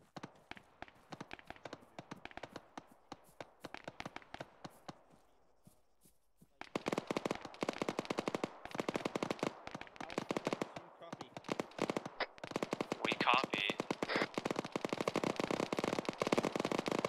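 Gunfire aimed at paratroopers in a video game, starting as faint scattered cracks and then jumping to loud, rapid, continuous bursts that run to the end, with voices under the shooting.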